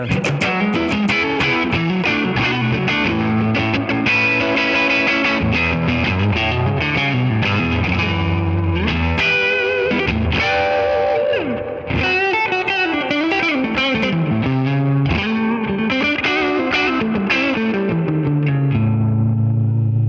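A heavily distorted electric guitar played loud through an amp, riffing with chords and bends, with effects-laden sustain, alone without voices.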